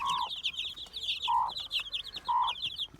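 A mother hen clucks to call her chicks among farmyard fowl, with repeated short rhythmic clucks close by and three sustained calls spaced about a second apart over light background bird chatter.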